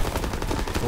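Rapid automatic gunfire in a Call of Duty WW2 multiplayer match, a dense rattling burst that runs continuously for about a second.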